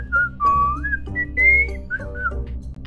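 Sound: person whistling in Among Us video

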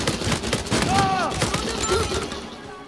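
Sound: gunshots in Uncharted 4 multiplayer video game

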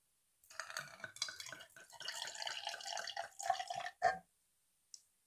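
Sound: pouring water into an empty bottle

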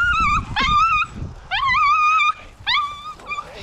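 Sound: hunting dog whimpering

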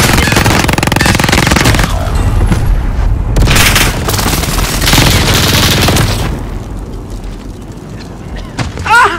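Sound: precision airstrike explosions in a video game

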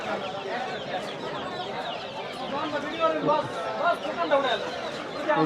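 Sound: chickens and roosters clucking at rural market

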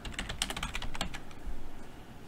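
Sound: typing text on a computer keyboard

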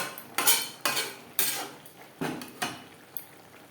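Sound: mixing lentil fritters into bottle gourd greens in pan

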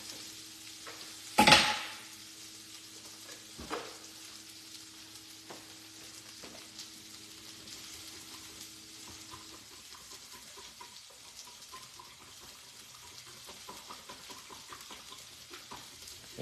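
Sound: stirring cornstarch into steak lo mein in a pan

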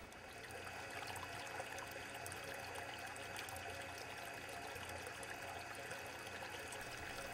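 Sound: water flowing back into tank

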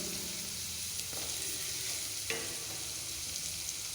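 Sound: onions frying and stirring in oil

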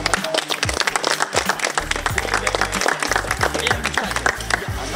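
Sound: audience applause at boxing tournament

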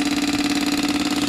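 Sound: Yamaha Virago 535 motorcycle engine starting and idling

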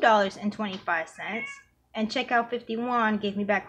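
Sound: cat meowing in the background

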